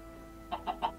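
Three quick clucks from a chicken in the video game Minecraft, close and fairly soft, spaced evenly over a quiet background.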